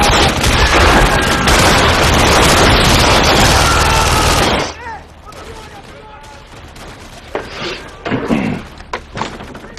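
Gunfire in a sci-fi action movie, a dense, loud volley of rapid shots for about four and a half seconds that cuts off abruptly, followed by quieter scattered thuds and movement.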